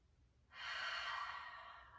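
A long, steady breath drawn in and let out during a yoga stretch, rising suddenly after a quiet moment and holding as a soft, close airy hiss for the rest of the moment, with no talking.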